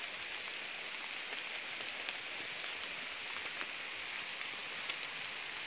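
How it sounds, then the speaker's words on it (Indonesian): Steady rain falls on a garden of bonsai stock plants such as local waru and beringin, a dense continuous patter with scattered louder drops, close and even throughout, with no voices. "Hujannya lumayan bro."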